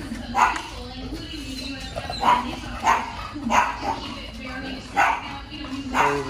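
An English bulldog or French bulldog barking at a groomer in Jackson, Mississippi, giving a run of about eight short, loud, evenly spaced barks close by over background noise.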